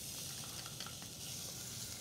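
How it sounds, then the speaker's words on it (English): Diced onion sauteing in grapeseed oil in a pot gives a steady, soft sizzle with a few faint clicks, quiet and continuous with no talking. "We're gonna start with a little bit of diced onion. We're gonna add that in there and start sauteing that."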